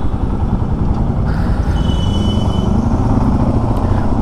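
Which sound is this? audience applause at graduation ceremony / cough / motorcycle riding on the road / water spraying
motorcycle riding on the road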